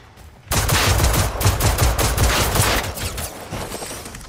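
Rapid sustained gunfire in the video game Generation Zero, a dense burst of shots starting abruptly after a brief quiet and continuing loud and steady, tapering slightly toward the end.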